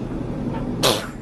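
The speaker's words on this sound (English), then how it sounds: "Wow, somebody's got the sneezes." A single short sneeze bursts out near the end, sharp and airy, after a quiet room hum with laundry being folded.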